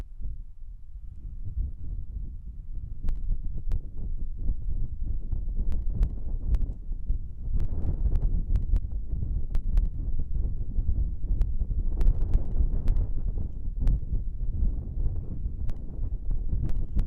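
Wind buffets an outdoor microphone with a constant low rumble and gusty swells, broken by faint sharp clicks and crackles, with no voices.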